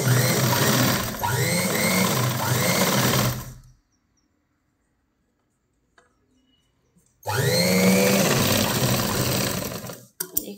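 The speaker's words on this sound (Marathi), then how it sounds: "अशीच आपण आता एक टीप मारून घेऊ।" Sewing machine stitching a blouse sleeve, running in two loud, steady bursts of needle chatter separated by a few seconds of silence, with a brief handling click near the end.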